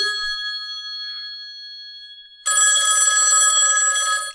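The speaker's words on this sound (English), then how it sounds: "maybe I'll ring my best friend Lance and see what he wants to do" A telephone rings loudly and steadily at close range with an electronic bell trill. A quieter high tone comes before it.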